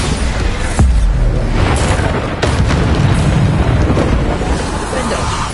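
Spell blasts in the Hogwarts Legacy video game, Bombarda explosions going off as booming bursts over a constant dense bed of battle noise, with sharp impacts near one and two and a half seconds.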